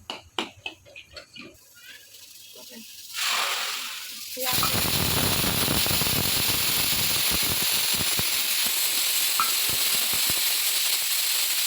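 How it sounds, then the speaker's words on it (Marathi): Dry fruits roasting in ghee in a wok, a steady loud sizzle and hiss that starts abruptly after a few seconds of quieter clatter and runs continuously to the end with scattered crackles. "आता परत कढईमध्ये तूप घातलंय"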